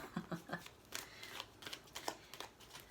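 Tarot cards being shuffled, the deck handled face-down and flipped, giving a quick series of soft riffling slaps and paper rustles up close, fairly quiet with short gaps between bursts.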